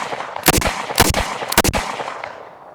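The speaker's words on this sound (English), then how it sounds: "Two shots on the target." Three gunshots fired at a target outdoors, loud sharp cracks spaced about half a second apart, the last a quick double, each trailing into a short echo before fading.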